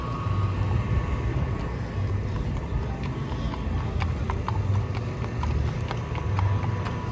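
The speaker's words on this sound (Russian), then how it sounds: "Конечно, это амиши катают лошадками." Horses' hooves clip-clop in a steady rhythm as they pull Amish carriages through a small Iowa town during a snowy Christmas celebration, the clear hoofbeats repeating over a constant outdoor background rumble.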